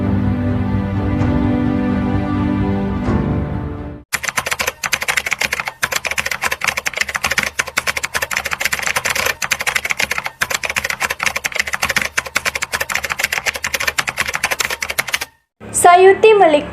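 The Indonesian proclamation text is typed in a rapid, continuous run of clacking keystrokes lasting about eleven seconds, after a stretch of talk and before a voice returns at the end.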